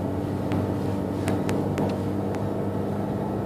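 A Fiat 500 engine strains at full throttle on a steep climb, a dense buzzing drone heard steadily from inside the car, with a few brief sharp clicks over it.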